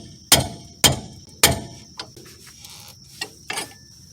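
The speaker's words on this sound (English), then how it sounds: "Ball joint separator here." Sharp metal hammer strikes on a ball joint separator fitted to a Honda Accord suspension: three loud blows in quick succession, then several lighter taps with a faint ringing tone between them.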